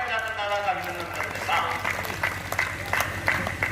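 A crowd at a Hindi humorous poetry gathering claps in applause, a lively, fairly loud burst of scattered hand claps with a tonal voice or hum lingering faintly underneath at the start.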